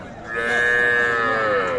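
A small calf gives one clear, sustained moo at a crowded village cattle market where young bulls and heifers are sold. The call is close and loud over faint background noise.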